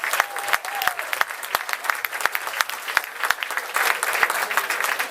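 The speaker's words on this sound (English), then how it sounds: "give him a big round of applause" Audience at a veterans' charity comedy show applauding a first-time stand-up comic, a dense, steady patter of many hands with a few sharper claps standing out, sustained throughout at moderate level.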